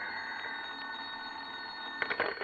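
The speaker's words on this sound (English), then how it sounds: "when the phone rang" A vintage 1947 radio-drama telephone rings with a sustained electric bell trill, close and steady, ending in a brief clatter as it is picked up.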